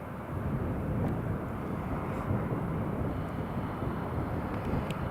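A KLM airliner on final approach to land at Newcastle International Airport sends a steady, broad jet roar across the whole stretch, with some wind rumble mixed in and no talking.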